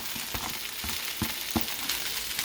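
Thinly sliced garlic and the green ends of scallions sizzle in a hot wok. The frying hiss is soft and steady, broken by a few light utensil clicks, with no talking.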